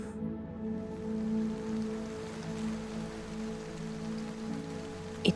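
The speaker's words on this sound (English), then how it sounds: "It was raining." Rain falling steadily outdoors, a soft continuous hiss with faint patter, even and unbroken, heard alone at low level.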